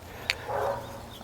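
A dog gives a single short, sharp bark followed by a brief faint whine, moderately close against steady low background noise.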